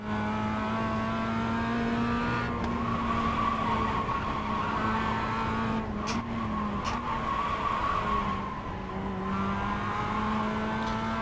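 A race car engine over-revving during a race, a loud, steady, high-pitched whine that climbs and dips in pitch as the car accelerates and shifts, with some tire noise underneath and no talk.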